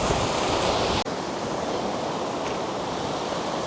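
Strong wind buffeting outdoors at Loch Ness, a loud, dense, continuous roar with one brief dip.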